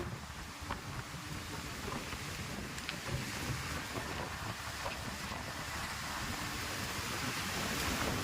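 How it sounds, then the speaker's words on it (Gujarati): Strong, storm-like wind during heavy rain in Gujarat, blowing through trees: a dense, continuous roar with constant buffeting rush, loud and close, slowly building, with no talking. "પવન મિત્રો બહુ ઊંચો છે, તમે જોઈ શકો છો અત્યારે ઝાડવા હિલોસા લે છે"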